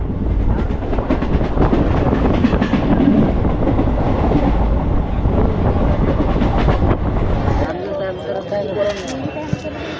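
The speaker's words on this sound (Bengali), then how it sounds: "আমাদের এক্সপ্রেস ট্রেনটা এখানে ছাড়লো, এখানে ছেড়ে ওই দিকে বেরিয়ে গেল।" An express train pulls out of Nalhati Junction station, a heavy rumbling and rolling clatter of wagons close by that stays loud, then drops away as the train departs and the platform ambience remains.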